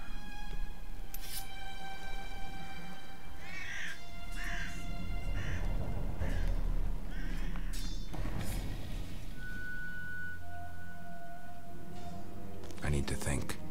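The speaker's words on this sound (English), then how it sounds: "Birds!" Crows caw in The Witcher video game, a series of harsh repeated calls mixed with game ambience while voices talk over them.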